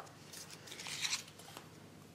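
Packaging of a Nars lipstick being opened, a short close rustle and crinkle of wrapping that builds to a brief crisp tearing crackle around the middle, quiet and heard alone without speech.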